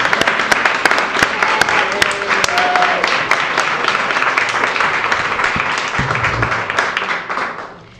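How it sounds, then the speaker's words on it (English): Indoor audience giving a round of applause at a reading program finale, dense steady clapping from many hands close by, sustained for several seconds before tapering off at the end. "she just deserves a major round of applause"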